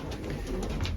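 Racing pigeons coo softly in their loft, a low murmuring coo heard quietly and close with no talk over it.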